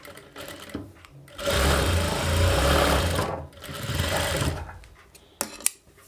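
A sewing machine runs two sustained stretches while it stitches a blouse joint. The whirring is close and steady and stops briefly in between, with a few faint clicks at the end.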